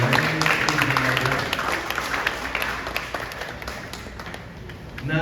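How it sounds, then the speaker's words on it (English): An audience at a Philippine event for the Frankfurt Book Fair 2025 gives a round of applause for a senator, with dense clapping that starts strong and gradually thins and softens. "Let's give another big round of applause to Senator Ligarda."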